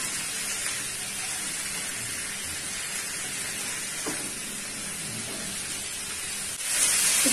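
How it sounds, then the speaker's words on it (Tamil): Tomatoes sautéing in a hot pan for a mixed vegetable pepper fry, a steady close sizzle and hiss running throughout with no voices, swelling louder near the end. "தக்காளி கொஞ்சம் வதங்கட்டும்"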